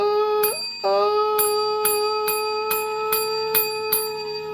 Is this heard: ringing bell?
yes